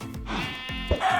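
A Minecraft sheep bleats once, a close, clear, wavering baa lasting about a second.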